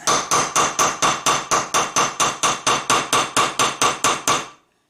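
Steady hammer blows peen copper rivet heads on a leather sheath, about eighteen sharp metallic taps in an even, quick rhythm, close and alone before falling silent.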